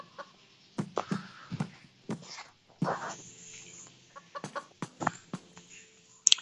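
Chickens in the horror video game Evil Nun 2 cluck in a series of sharp, irregular bursts, fairly close and alone, with brief gaps of quiet between the calls.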